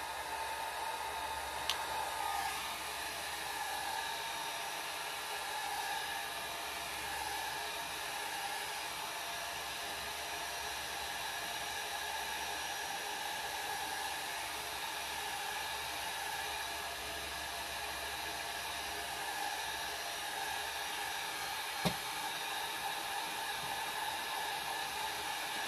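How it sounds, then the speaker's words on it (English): A hair dryer blows steadily and close for the whole stretch while drying an alcohol ink painting, its even whooshing hum broken only by a couple of faint clicks. "very quickly I'm going to take this dryer to it"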